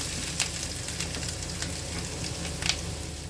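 Grated coconut filling for a sweet cooks in a pan over a low gas flame with a soft, steady sizzle. Faint scraping stir sounds come through at intervals. No one speaks.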